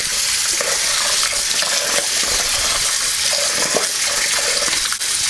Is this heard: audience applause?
no